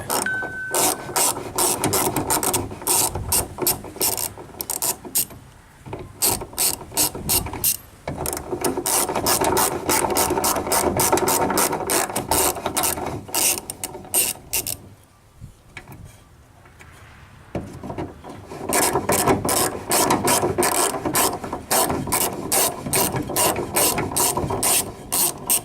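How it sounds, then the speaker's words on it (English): A ratchet with a 15mm socket clicks in long, steady runs while backing out plastic clips on a branch guard mount, close and clear, with a few short pauses between strokes. "you're going to get you a 15mm socket, and you're just going to very carefully back them out because they are plastic"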